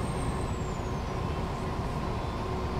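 American trucks pass by, a loud, steady engine roar and road rumble filling the whole moment, with a faint high whine sliding downward.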